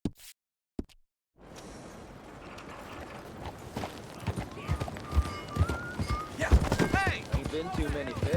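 Horse hooves clip-clop in a video game, starting after a short silence and building into a steady, close trot, with voices and whinny-like tones mixed over the rhythm.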